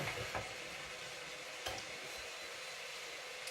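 Butter sizzling with cabbage in a hot pan, a steady broadband frying hiss that runs continuously throughout with a couple of brief stirring clicks, fairly close and moderately quiet, with no talking.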